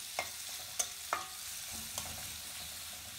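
A small chopped onion fries until brown in a pan, making a faint, steady sizzle. A few sharp spoon taps and scrapes stand out over it, and no one speaks.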